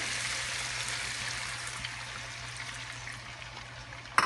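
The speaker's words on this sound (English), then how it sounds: "she's gonna add some water" Water poured into a pan of sweet and sour vegetable stir-fry gives a steady, even hiss and rush lasting the whole stretch, close by, with a small clatter at the very end.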